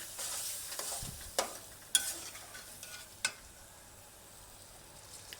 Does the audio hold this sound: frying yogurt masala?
yes